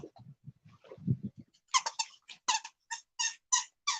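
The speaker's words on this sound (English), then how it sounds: "here she comes with the squeaky toy" A dog plays with a squeaky toy, low grumbly vocal noises first, then a rapid series of sharp, high squeaks in quick bursts, close and loud, with no talking.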